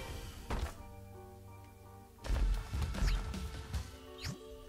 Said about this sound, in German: Mams Füße sind auch Explosionen.